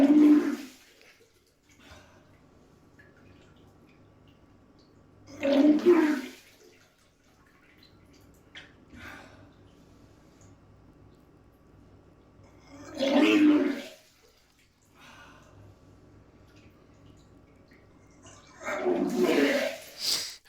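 Heavy fluid vomiting from bowel obstruction, three or four loud gushing, gurgling bursts separated by quiet stretches, with low background noise between episodes.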